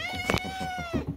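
A pet cat gives a long, clear meow, close and loud, with a steady, slightly falling tone. Brief soft background sounds come before and after.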